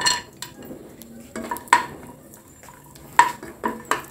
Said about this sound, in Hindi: और अब मैं इसी तेल में काजू भी रोस्ट करूँगी।